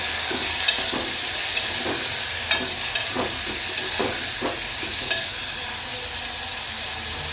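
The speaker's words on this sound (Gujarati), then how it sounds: "આ રીતે કટિંગ કરી તેને પણ એડ કરીશું અને મિક્સ કરી દઈશું" Chopped tomatoes, three of them, stirred and cooking in a hot pan for street-style sandwich filling: a loud, steady sizzle with repeated scraping strokes of the spoon, close and without talk.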